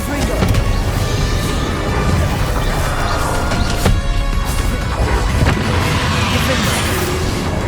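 The Confringo blast spell goes off in Hogwarts Legacy amid combat, with crashing impacts and booming hits layered over dense battle noise and voiced lines throughout.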